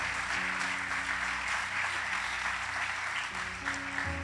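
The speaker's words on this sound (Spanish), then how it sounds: "Dale un fuerte, fuerte aplauso al Señor." A church congregation applauds during a Spanish-language service, continuous clapping at moderate volume over sustained organ or keyboard chords.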